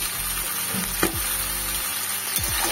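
Onion, garlic and broccoli fry in a hot pan with a steady broadband sizzle, broken by a few clattering stirs or pieces dropping in; no one speaks.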